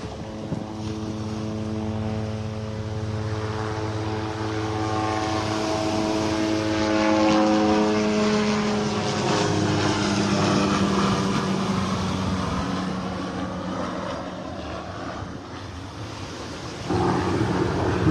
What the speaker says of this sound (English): Comes a helicopter coming up the beach behind me.